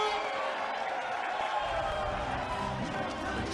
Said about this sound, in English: Enjoying the applause of the crowd now